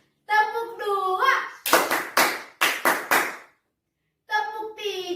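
Children at an online Sunday school service clap in short bursts, five or six loud rhythmic claps in a counting game, close and clear, with a voice speaking before and after.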